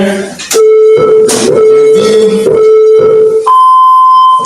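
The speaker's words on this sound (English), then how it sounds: "So I started my timer, the 10-second countdown has begun. Listen to the clock." A countdown timer on a workout clock beeps during a home exercise session, sounding as a steady sustained tone that cuts in and out, followed by a higher pitched tone near the end, with other sounds around it.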